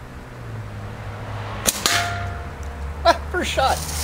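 A homemade clay slingshot fires with a sharp, close snap and a quick second crack, followed by a few faint, brief voice sounds over quiet background hum.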